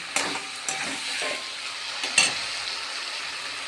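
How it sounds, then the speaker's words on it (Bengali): Hot water poured into a pan of spice-fried potatoes, a burst of hissing and sputtering steam with a few pan knocks, close and fading after a couple of seconds. "আমি এবারে গরম জল দিয়ে দেবো"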